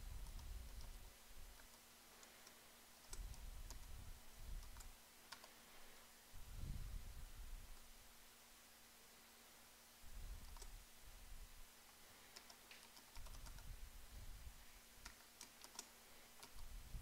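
Computer keyboard typing as code is entered for web design, bursts of quiet clicking keystrokes with pauses between, close and soft over a low steady hum, no talking.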